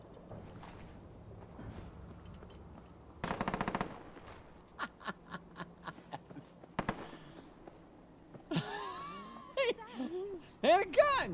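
Gunfire in the Helldivers video game: bursts of rapid automatic fire and scattered single shots, some loud and close, mixed with footsteps and game effects while a player talks over it.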